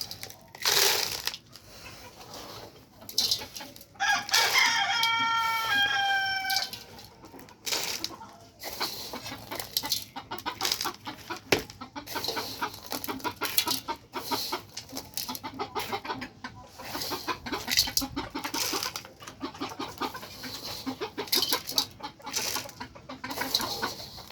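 Fayoumi chickens kept on a rooftop cluck and scratch in a busy, irregular patter, and a rooster's loud crow rings out near the start.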